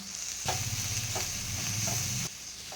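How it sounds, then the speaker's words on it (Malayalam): Masala with coriander powder, curry leaves and coriander leaves is sautéed in a pan for mutton chops: a steady close sizzle with brief stirring scrapes, ending abruptly. "പച്ചമണം മാറുന്നവരെ വഴറ്റി കൊടുക്കാം"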